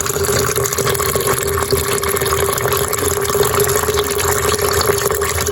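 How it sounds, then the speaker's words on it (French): Hot water pours steadily into a container of maize being soaked as homemade fishing bait, a continuous close splashing fill with no pauses and no voices. "On va en mettre encore un peu plus parce que il risque de beaucoup gonfler avec l'eau chaude"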